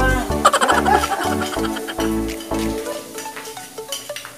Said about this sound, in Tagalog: Lagyan natin yung bawang. O, papulahin daw.